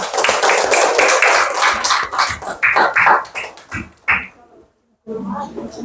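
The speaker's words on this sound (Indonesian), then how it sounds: "Tepuk tangan dulu untuk kelompok 3." A classroom of students claps for a group that has just presented, a loud burst of many hands that thins into scattered claps and stops, followed by a voice speaking.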